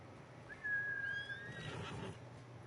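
A horse neighs in the video game Ghost of Tsushima, one clear whinny rising and trailing off over a quiet outdoor ambience, fairly close and heard alone.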